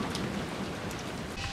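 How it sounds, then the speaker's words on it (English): Steady, dense rainfall in the video game Dying Light, a continuous hiss of drops on surfaces, loud and unbroken over the short stretch with no voices. "It started raining again."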